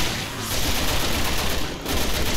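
Dense, continuous gunfire in the video game Resident Evil 6 rattles throughout, a steady barrage of overlapping shots with a brief dip near the end, loud and close.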